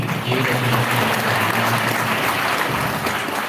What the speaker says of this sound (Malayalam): ഇനി നമുക്ക് സുബിക്കും തെരേസ് ജോസഫിനും നല്ല ഒരു കൈയടിയോടുകൂടി നന്ദി